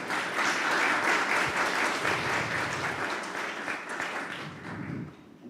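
An audience at a Universidad Veracruzana session claps for a university official. The applause is loud and sustained for over five seconds, then thins and fades toward the close.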